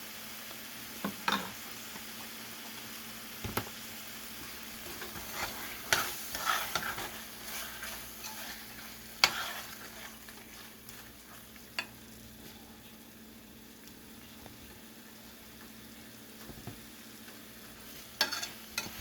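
Butter chicken masala cooks in a pan with tomato paste and coriander powder, giving a quiet steady sizzle broken by scattered scrapes and stirs of a spoon, with no voices.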